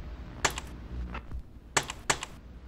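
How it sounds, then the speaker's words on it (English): Keys clatter on a computer keyboard during a typing test game, a few sharp clicks in small bursts separated by pauses, close and clear with no talking. "I'm hitting the A key"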